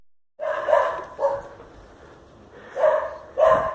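A dog barks four times in two pairs, loud and close, with short gaps between the pairs.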